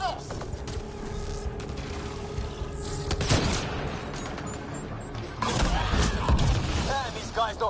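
Gunfire in the PS4 game Mass Effect: Andromeda, clattering shots and mechanical weapon noises over battle ambience, with louder firing bursts midway and near the end.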